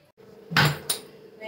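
A metal wok clanks down onto a gas stove, one sharp knock followed by a lighter clink.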